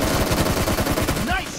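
Rapid automatic gunfire in a death match first-person shooter game, loud sustained bursts of shots with a brief rising game tone near the end, no talk over it.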